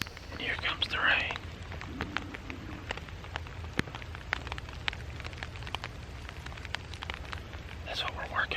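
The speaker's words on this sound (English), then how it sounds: "And here comes the rain." Steady patter of rain falling in a Florida forest, soft crackling drops with occasional louder taps, and a faint hushed voice now and then.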